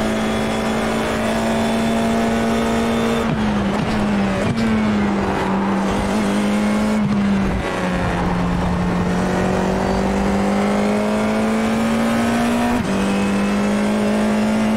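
A Formula 4 iR-04 race car in iRacing at Rudskogen, its engine droning loud and steady near constant revs, with brief dips and surges as gears shift, close and continuous with no talk.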